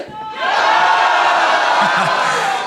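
TV studio audience at a German folk music show shouting back in loud unison, a sudden roaring crowd reply that holds for about two seconds.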